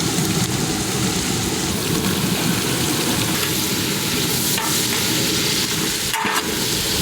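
Green beans frying in a pan with cashews and raisins, for fried rice, give off a steady, loud, close sizzling hiss that runs unbroken throughout, with a brief stirring knock near the end and no talking.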